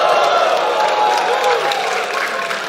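A live crowd at a FlipTop rap battle at Isabuhay 2023 roars in a steady, dense wash of cheering and shouting, loud and sustained throughout, with individual voices blurred into the mass.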